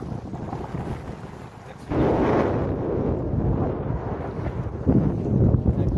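Strong storm wind roars steadily over the Brahmaputra River, rough gusting buffeting with a low rumble and a swell in force partway through; no voices.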